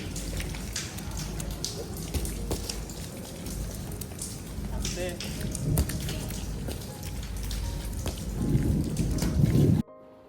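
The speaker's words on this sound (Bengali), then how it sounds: "যেমন বিজলি জমকাইতেছে তেমন চরম মাত্রায় বৃষ্টি পড়তেছে" A heavy thunderstorm lashes down in a steady roar of rain, with rumbling thunder building and swelling throughout before the sound cuts off abruptly near the end.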